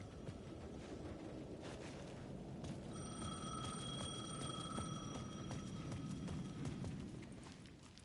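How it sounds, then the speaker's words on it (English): A payphone rings in Alan Wake 2, its sustained electronic bell trilling through the middle of the clip over a steady wash of footsteps and ambient noise. "The payphone was ringing again."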